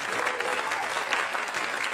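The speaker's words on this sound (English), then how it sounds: "Give it up for that. Don't clap too fast." A comedy club audience claps steadily in a dense, sustained round of applause, fairly loud and even from start to finish.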